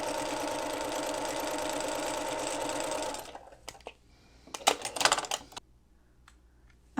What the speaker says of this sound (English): And then I'm going to sew this.